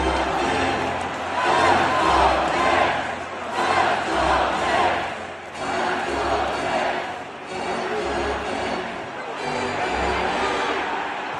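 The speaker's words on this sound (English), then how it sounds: "the true noise of Madison Square Garden when Landry Shamet" A Madison Square Garden playoff crowd roars after a Knicks three-pointer by Landry Shamet, a loud, sustained wash of cheering that swells and ebbs in waves.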